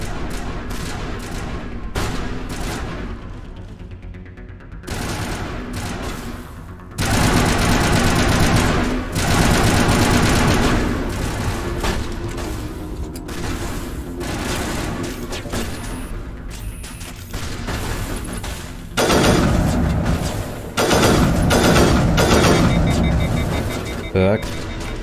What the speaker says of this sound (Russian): Откуда стреляют?